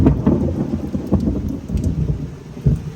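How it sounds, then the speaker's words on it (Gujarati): Heavy downpour in Patan, Gujarat, with low rolling thunder rumbling through steady, loud rain hammering on surfaces, with no voices. "લાઈવ હાલ ગાજવીજ પણ થશે તો સાંભળો તમે"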